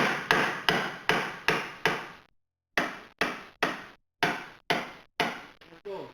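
A bolt is tapped into the lower control arm of a Jeep Compass or Patriot with a series of sharp, close metallic hammer blows in two groups of about five, separated by a brief pause, each strike ringing briefly.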